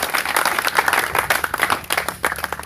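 A church congregation applauding during a service, brisk uneven clapping with distinct individual claps, fairly close and lively, for a short burst.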